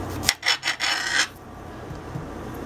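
A knife chopping an onion on a wooden cutting board: a few quick scraping, rasping strokes, close and fairly quiet, then near silence.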